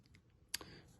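A pencil lead snaps while drawing, one sharp, quiet click standing out midway against faint background hiss.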